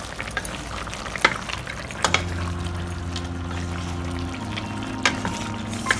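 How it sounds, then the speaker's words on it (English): A chicken stew bubbles in a pot: a busy simmer of small pops and scattered sharp clicks, joined partway through by a steady low hum, close and without speech. "So this has been bubbling away for about 7-8 minutes."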